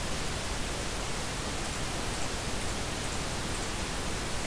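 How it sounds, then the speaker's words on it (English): Uniform pink noise generated in Sound Forge: a steady, even, unbroken hiss like soft static or heavy rain, constant in level from start to finish, with no other sounds. "That's a uniform pink noise."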